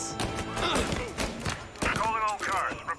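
Gunfire crackles in the video game Mafia Definitive Edition, a few sharp shots and bursts mixed with game sounds while voices talk over them.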